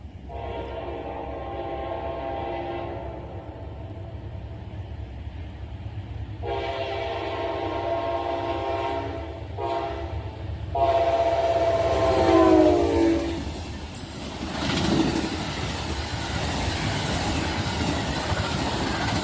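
A freight train rolls past with a rare Connecticut Rail P40DC locomotive trailing, its horn sounding in several long, loud blasts over the steady rumble and clatter of passing cars.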